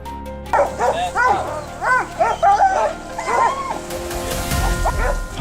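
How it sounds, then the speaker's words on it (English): Hunting dogs bark during a driven wild boar hunt in Germany: a rapid series of close, loud barks and yips, followed by rustling movement through vegetation. "Hunters work with dogs to locate and flush wild boars from thick vegetation"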